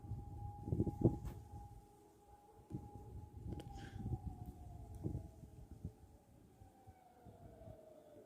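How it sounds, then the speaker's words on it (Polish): A distant air raid siren wails faintly on the Warsaw Uprising anniversary in Warsaw, a thin, steady tone slowly sliding lower, with occasional low bumps and wind rumble around it. "Tutaj słyszę syrenę alarmową, jak jest daleko i to jest cicho"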